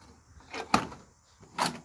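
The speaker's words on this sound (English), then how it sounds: "But the door works mint." The door of a 1980 Ford truck is worked open and shut, giving a sharp latch clunk near the middle and a second solid thud shortly after, both close and fairly quiet with little else around.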